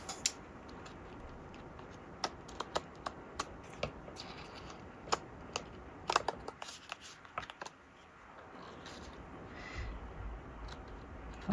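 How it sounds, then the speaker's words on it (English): Large scissors snip through die-cut paper with a steady run of crisp, close clicks and cuts, spaced irregularly, with rustling paper between them and a quieter stretch near the end. "I like these giant scissors."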